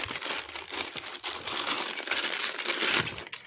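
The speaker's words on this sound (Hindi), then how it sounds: "इसकी पैकेजिंग को ओपन करते हैं।" Close crinkling and rustling of packaging as a Bosch GDC 141 marble cutter box is unpacked, with crumpling and handling noises running continuously.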